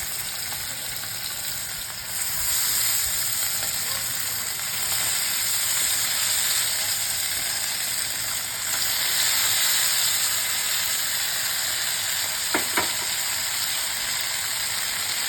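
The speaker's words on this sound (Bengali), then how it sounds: "আর এক সাইডে ঠিক আলু দেবো" Potatoes and small mourala fish fry together in a pan, a continuous close sizzle that swells after a couple of seconds, with a brief clatter of stirring near the end.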